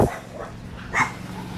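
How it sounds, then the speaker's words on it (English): Small dogs bark outdoors during a countryside walk, giving a couple of short, moderately close yaps with no talking over them. "Oh, look, there's some little doggies."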